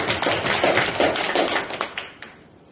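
An audience claps loudly at a talk on blessed family life, a dense burst of hands that thins out over the last second into a few scattered, fading claps before falling quiet.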